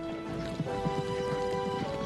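Hooves thud in a quick, steady rhythm over a soft background hum, a galloping beat that stays even throughout.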